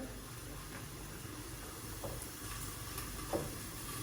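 Bruschetta bread slices, oiled side down, sizzling on a hot grill while mushrooms in cream sauce are prepared, a faint steady hiss with a soft clack or two, low and close.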